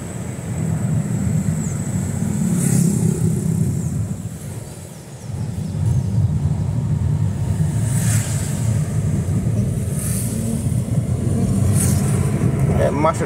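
A truck engine rumbles loudly and continuously while driving, dipping briefly as if between gear shifts before pulling again, with faint voices talking over the noise.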